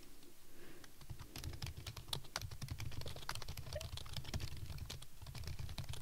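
Close, steady keyboard typing fills the stretch as an image description is written for a tweet, a quick uneven patter of keystrokes with no talk over it.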